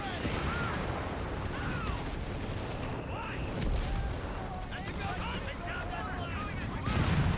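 Armor-piercing rounds fired in Company of Heroes 3 during a US Forces 1v1 battle: repeated distant gunfire and explosive booms over a dense battlefield din, with someone talking throughout.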